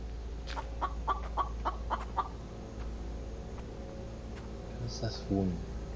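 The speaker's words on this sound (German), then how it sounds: "Das Huhn." A chicken in a video game gives a short run of clucks, followed by a brief squawk, heard faintly over a low steady game background.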